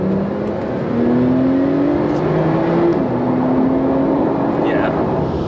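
A 2016 Porsche Turbo S engine pulling hard from inside the cabin, loud and continuous, its tone climbing steadily and dipping briefly at a gear change.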